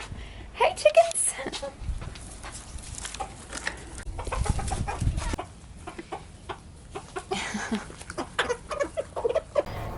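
Free-range chickens cluck in short, scattered bursts close by, with occasional louder calls and rustling, while a person speaks intermittently among them.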